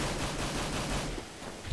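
AK rifle on full auto in Counter-Strike: GO, a dense rattle of gunfire that stays steady and fairly loud through a short burst, then eases slightly near the end.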